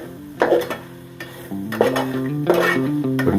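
A spoon stirs vegetable biryani masala with green chillies in a pot, giving a steady run of soft scraping and clinking strokes, close and fairly loud, with no talking.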